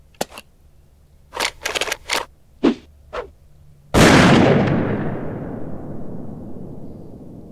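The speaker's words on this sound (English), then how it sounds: "A hidden shotgun." A single loud shotgun blast sound effect cuts in sharply after a few short, scattered clicks and rustles, then rings out in a long, fading boom that decays over several seconds.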